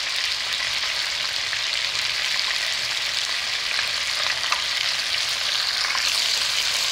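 Chicken frying in a pan with sauce, a loud, steady, even sizzle with no pauses and no talk.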